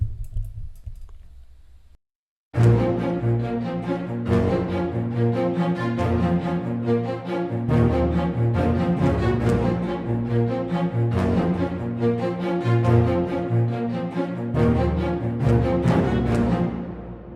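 A short plucked string synth and chord pads play together in an Afrobeats beat, starting after a brief quiet moment and then running as a steady, dense rhythmic groove, loud and continuous with no voices.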